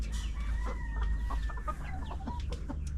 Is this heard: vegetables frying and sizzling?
no